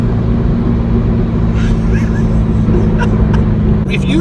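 A Chevrolet Corvette ZR1 engine roars under hard acceleration, loud and close, a dense low rumble that stays strong throughout with light wind or road noise on top.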